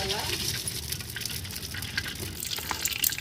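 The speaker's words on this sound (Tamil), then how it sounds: "போட்டோன்னே நல்லா பொரியிற சவுண்டு கேட்குது பாருங்கள்" Whole cinnamon, clove and cardamom dropped into hot oil over a village wood-fire stove for chicken biryani give a soft, hissing crackle with small spits, fairly quiet and close.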